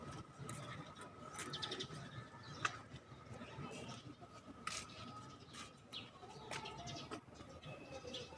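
Birds coo softly in a busy outdoor chorus, with soft repeated calls and scattered chirps over a constant hiss of background noise, with no clear talking.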